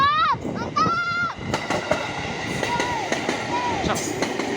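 A KRL JR205 electric commuter train rolls past at close range with rumbling wheels, rhythmic clicks over rail joints and brief squeals, after a short melodic horn blast; a voice speaks briefly.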